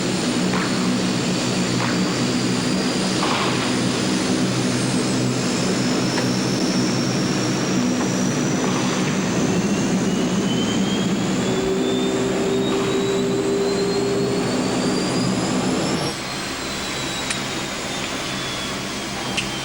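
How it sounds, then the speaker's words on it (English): An aircraft engine spins up steadily, droning loud and close with a rising whine and a sustained low rumble, then shifts pitch and eases off near the end; no one talks. "We're about to start on the new engine."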